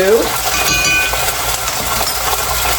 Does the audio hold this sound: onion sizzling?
yes